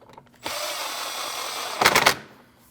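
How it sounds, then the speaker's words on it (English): A power screwdriver tightens Phillips screws on a 2012-2016 Honda CR-V quarter panel splash shield: one steady whirring run followed by a short burst of ratcheting bursts as the screw seats, close and fairly quiet. "Now you can put back your Phillips screws. One down on the left, one up top. Tighten those both."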